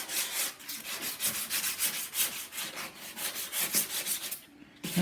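Body filler is rubbed and sanded off the body of a 1979 Ford F150 truck in rapid, rhythmic back-and-forth strokes, close and continuous, pausing briefly near the end.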